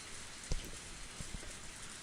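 Steady rain falls with a soft, even hiss, a few heavier drops or splashes standing out near the start and middle, used as a sound effect in the visual novel Higurashi no Naku Koro ni.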